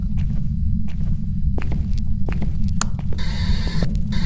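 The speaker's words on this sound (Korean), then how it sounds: "이번에 발소리가 저기서 났다냐" Ghost footsteps in the horror game Phasmophobia, a series of soft, irregular thuds over a constant low rumbling hum, growing sharper toward the end.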